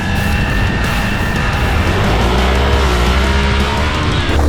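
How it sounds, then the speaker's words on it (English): A Hero Xpulse 200 4V motorcycle engine drones loud and close while riding, with a constant roaring note and wind rush throughout and no talk. "the 4V ensures that it's only going to get wider with the changes to the engine and the internal gear ratios"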